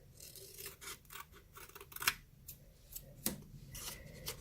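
Scissors snip through paper pieces for a Little Mermaid craft gift box, soft rubbing rustles between two sharp, close cuts, no talking.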